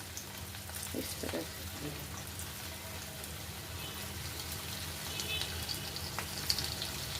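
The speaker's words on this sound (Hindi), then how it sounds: "गरम हो गया है, इसमें एक एक करके मैं डालते जाऊंगी" Potato rolls for aloo khasta slide one by one into hot oil, raising a steady, close frying sizzle with a rain-like crackle throughout, while someone speaks briefly over it.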